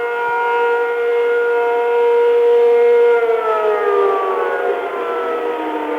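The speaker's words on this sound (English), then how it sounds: "Sirens are sounding again here." A loud air raid siren wails steadily in Baghdad during the 1991 Gulf War, its tone holding and then slowly sliding downward, sounding alone without any voices.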